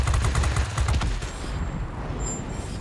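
Rapid aircraft cannon fire from a World of Warplanes fighter, loud dense bursts in the first second that thin out into lighter scattered shots and engine hum.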